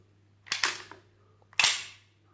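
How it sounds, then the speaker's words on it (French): Glock 18C airsoft replica fitted in a Roni conversion kit, its cocking lever pulled to rack the slide back: two sharp metallic clacks about a second apart, close and loud, with no talking. "ce levier d'armement tire la culasse en arrière"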